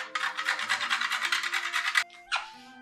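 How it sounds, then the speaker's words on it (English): A fresh whole nutmeg being grated by hand without a proper grinder: a steady rhythmic rasping scrape of about a dozen quick strokes, close and fairly loud, then a short pause and one last scrape. "I got a fresh nutmeg. I don't have a proper nutmeg grinder."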